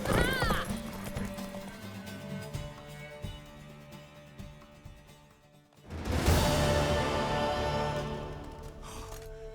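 In The Witcher 3: Wild Hunt, rhythmic hoofbeats clip-clop under layered game sound effects, with a loud horse whinny rising after a brief dip in noise.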